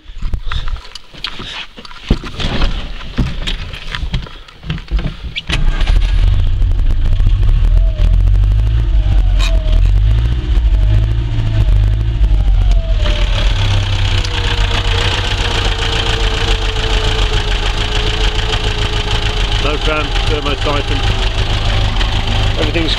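A car engine started from stone cold, first a few rough cranking bursts and knocks, then settling into a steady, close, low idle that holds for the rest of the stretch.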